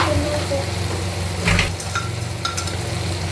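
Kashmiri chili powder sizzles steadily in hot oil in a pan for a Kerala fish masala curry, with a couple of brief scraping stirs partway through.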